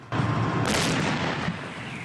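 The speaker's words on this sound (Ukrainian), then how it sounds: "Стріляють гаубиці мало не 24 години" Howitzer artillery firing in the war zone near Donetsk in 2014, a sudden heavy boom with a roaring blast that rolls on and decays over about two seconds, loud with no voices.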